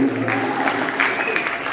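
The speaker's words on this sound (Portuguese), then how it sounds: "Uma salva de palmas" Lecture audience clapping in a brief burst of applause, moderately loud and continuous, with a voice audible over it.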